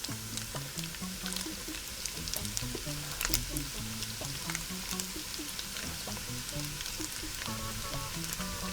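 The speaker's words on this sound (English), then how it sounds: "I'm going to put in my onion next." Sausage browning in a pan for spinach and sausage pasta, with chopped onion going in, fries with a steady, close sizzle and scattered crackling pops, no talk.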